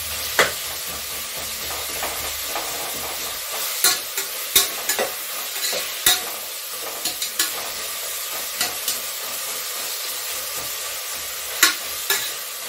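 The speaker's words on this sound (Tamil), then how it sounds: "இப்போ வந்து நான் வந்து வெங்காயம் பச்சை மிளகாய் பட்டை லவங்கம் இதெல்லாம் தான் போட்டிருக்கேன். இதை கொஞ்சம் வதங்க பண்ணுங்க." Onion, green chilli, cinnamon and cloves sautéing in a pan for mint rice, a steady sizzle broken by sharp scraping and clinking strokes of a spoon against the pan at irregular intervals.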